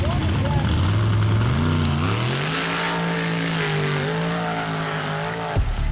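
A dirt dragster roars down a mud drag racing track, its loud engine climbing through rising revs in one sustained pull, then cutting off abruptly near the end, with voices under the engine noise.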